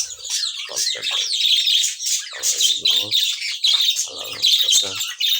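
Japanese budgerigars in a home aviary give bright, rapid chirps and squawky chatter, close and continuous, with a few harsher calls mixed in.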